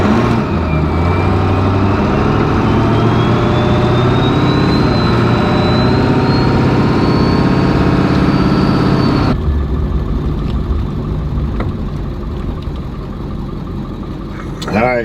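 A Ford Powerstroke 7.3 diesel truck engine drones steadily while driving down the road, loud and close with a rising whine, then drops to a quieter idle-like rumble partway through as a voice talks.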